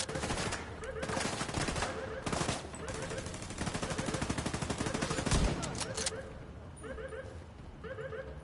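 Automated turret firing in The Division 2, a dense rapid stream of shots rattling for several seconds before thinning out, with faint voices in the game mix.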